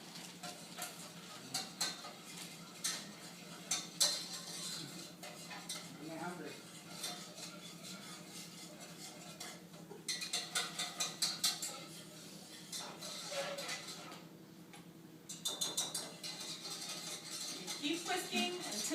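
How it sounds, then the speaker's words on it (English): Milk being whisked in a pot for a coconut cream pie, with quick rhythmic metallic clinks and scrapes of the whisk against the pot in bursts, fairly quiet, while a person talks at intervals. "And then you whisk it around until it gets warm."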